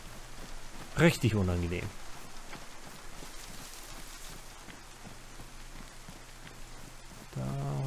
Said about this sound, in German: Aber warum muss es hier andauernd regnen?